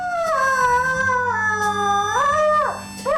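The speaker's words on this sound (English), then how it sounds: "started making this amazing sort of howling noise" A pet dog held in a vet setting gives a loud, sustained howl close by, with a long wavering pitch that rises and then drops sharply near the end, and no talking.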